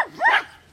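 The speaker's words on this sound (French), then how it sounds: "Les chiens de garde." A guard dog gives a single short, sharp bark, close and loud, then quickly fades.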